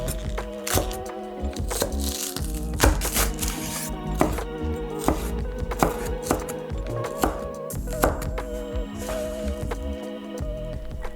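Spring onion being cut with a knife on a cutting board, a series of sharp, close chops in an irregular rhythm over faint tonal background sound.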